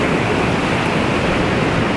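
Ocean surf at Newport Beach, California, roars as a steady, loud wash of breaking waves with no talking.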